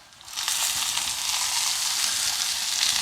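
Potatoes roast in a cast iron skillet, and a broad, even sizzle swells in after a quiet start and holds steady. The sound is close, with no voices.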